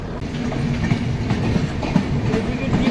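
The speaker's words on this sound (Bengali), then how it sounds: "আর আমাদের ট্রেনও ফারাক্কা থেকে ছেড়ে দিয়েছে" The New Delhi - Malda Town Express pulls out of Farakka, a steady low rumble with rhythmic wheel clatter on the rails that holds close and even throughout, with no voices.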